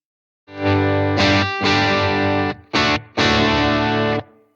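An electric guitar through a Blackstar Amped 2 pedal amp set to a British distortion tone plays several loud, saturated sustained chords with brief gaps between them, close and alone.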